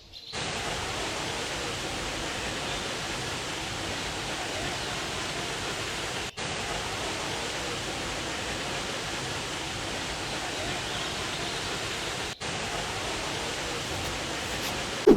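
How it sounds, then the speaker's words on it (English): Steady broadband roar of Jog Falls, a waterfall in Karnataka's Shimoga district that splits into four separate falls, continuous and even throughout with two brief cuts, no voices. "Split into 4 distinct falls, Jog Falls is located in the Shimoga district of Karnataka."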